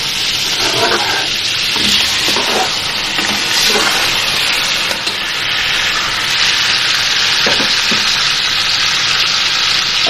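Pieces of meat fry with garlic in a pot for a pulao, giving a loud, continuous sizzle and hiss with occasional stirring scrapes, and no voices.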